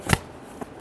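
Tarot cards being shuffled, a brief close riffle of card edges followed by a couple of softer flicks, with no talking.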